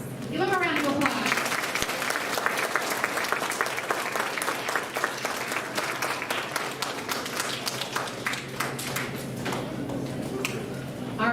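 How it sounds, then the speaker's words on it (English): Audience applause at a 3rd grade quarterly awards ceremony, with steady sustained clapping from a crowd of parents and students filling the room while a voice speaks briefly at the start. "Give them a round of applause."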